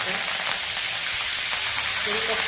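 Mustard seeds sizzle in hot oil alongside garlic, a dense, steady hiss with faint crackles running evenly and close throughout.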